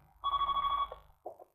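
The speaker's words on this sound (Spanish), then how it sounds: "Vamos, atiende el teléfono." An office telephone rings with one sustained electronic trill, then a short second burst, heard close and clear with no talk over it.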